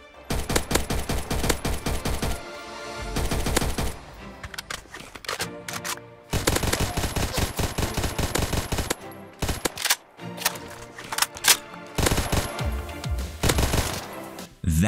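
Rapid automatic gunfire from a Minecraft gun add-on in a video game, loud bursts of rattling shots separated by brief pauses, with no talk over it.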